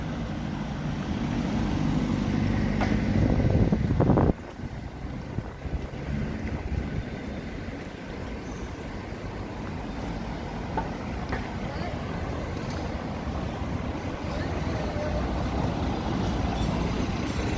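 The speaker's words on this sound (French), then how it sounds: "Bon là c'est un peu chiant avec le bruit des voitures" Continuous rumble of car traffic along a busy main street in Lisieux, steady and fairly loud, with a louder passing vehicle in the first few seconds before settling into a constant wash of engine and road noise.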